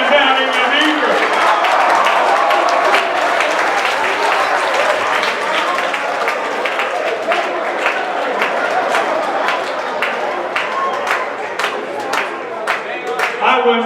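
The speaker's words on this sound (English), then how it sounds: "Give them another round of applause." Audience applause at a hypnosis show, a full round of many people clapping, loud and sustained, with a few sharper individual claps standing out as it thins toward the end.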